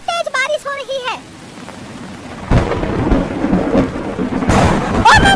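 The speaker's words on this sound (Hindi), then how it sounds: "बाहर बहुत तेज बारिश हो रही है।" Cartoon heavy rain and thunder: after a brief high voice, a loud thunder crash bursts in over a dense hiss of pouring rain that continues to the end, with another voice returning at the close.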